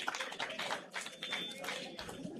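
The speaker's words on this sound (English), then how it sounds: "a round of applause" Applause for Professor Kemi Udukoya at a pharmacists' scientific conference opening ceremony, a dense, close burst of clapping hands filling the whole moment, with a voice faintly mixed in.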